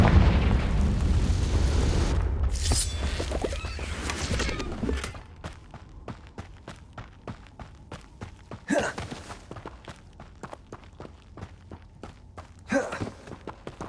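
A Confringo blasting spell explodes in Hogwarts Legacy, a loud booming blast at the start that decays over several seconds, followed by quieter footsteps and small pops.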